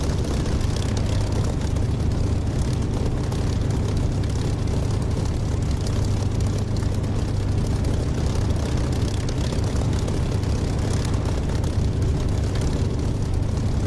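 Spitfire propeller aircraft taking off in the DCS flight simulation game, a loud, steady low engine drone filling the whole stretch with no pauses, no talking.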